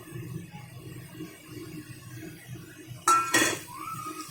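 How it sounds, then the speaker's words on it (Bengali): Eggs are stirred through dried-out masala in a pan for a double-yolk egg curry, with a couple of sharp clinks and scrapes of a utensil against the pan near the end over a low kitchen background. "ডিমগুলোকে দিয়ে একটু নাড়াচাড়া করে নেবো।"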